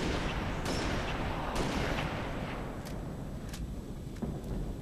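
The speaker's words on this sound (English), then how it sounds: "It takes 3 sniper shots to kill a single grunt." Sniper rifle shots in Halo Reach's Nightfall mission, several sharp blasts spaced irregularly over a dense, rumbling battle background with no voices heard.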